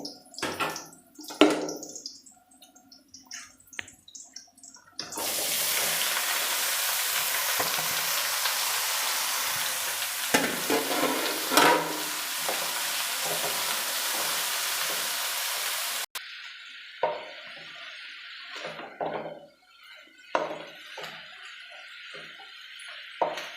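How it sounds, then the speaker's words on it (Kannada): Onions and vegetable palya hiss and sizzle loudly in a hot pan for several seconds, with scraping stirs and clinks before and after the frying burst. "ಈರುಳ್ಳಿ ಫ್ರೈ ಆಗಿದೆ ಈಗ ನಾನು ಪಲ್ಯನ ಸೇರಿಸ್ತೀನಿ ಇದಕ್ಕೆ"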